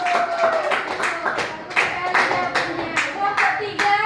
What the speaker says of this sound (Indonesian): Kasih tepuk tangan kepada temannya